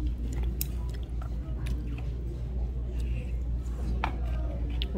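Someone chews crunchy seasoned Korean greens (namul) served as a side dish at a restaurant, with soft crisp bites and mouth sounds close to the mic amid low background murmur.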